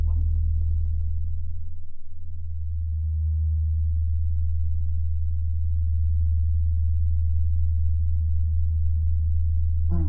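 A pure sine-wave tone holds steady and loud for the full length, an unbroken hum with a brief faint blip near the start and end.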